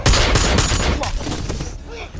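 Rapid volley of gunshots from a shootout in the action movie Wrath of Man, loud and dense bursts crowding the short stretch before fading slightly.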